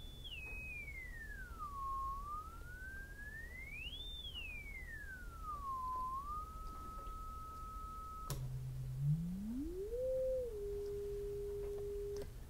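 A test tone plays through a Zenith 707 electrodynamic speaker without its field coil energized, a faint pure tone that glides up and down, holds steady, then jumps low and sweeps upward to another steady pitch.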